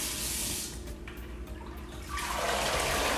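Root vegetables being shaken in a bowl of water, a rushing, sloshing swirl that eases off midway, then surges again loudly, close by with no voices.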